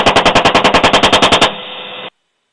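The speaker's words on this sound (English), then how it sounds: "Adjusting one more time and firing." A machine gun fires a fast, loud, evenly spaced burst of about fourteen close shots, then cuts off into a short ringing tail before silence.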